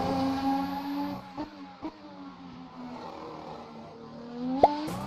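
A race car in the game Assetto Corsa runs over curbs, its engine note rising and falling in harmonic tones, with several sharp thumps as the wheels strike the kerbs.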